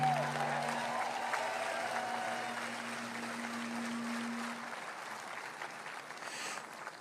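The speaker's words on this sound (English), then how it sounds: "Please give yourself a big round of applause." Applause from a rally crowd in Butler, Pennsylvania, a broad steady wash of clapping that fades gradually, with a faint hum beneath and no voices standing out.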